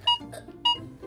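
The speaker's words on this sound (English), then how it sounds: "Now come through the metal detector. Beep, beep, oh, wait, beeped." A metal detector in a kids' pretend airport game gives two short, clear electronic beeps about half a second apart.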